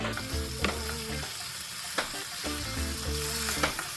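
Steady, loud sizzling of crappie fillets frying in a pan, with a few sharp clinks and scrapes from a utensil over the constant crackle.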